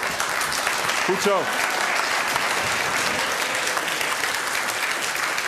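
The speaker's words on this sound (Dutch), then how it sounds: "Geef deze lijsttrekkers een hartelijk applaus." At a municipal election debate in Zoetermeer, the audience gives lead candidates steady, loud applause lasting the whole stretch, with a brief spoken word from someone near the start.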